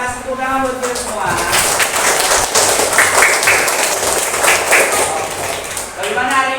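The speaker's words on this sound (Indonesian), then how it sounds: "Ya, kita kasih tepuk tangan buat kita semua." A classroom group of pupils clapping together, a lively burst of dense applause mixed with voices, starting after a brief spoken lead-in and fading near the end.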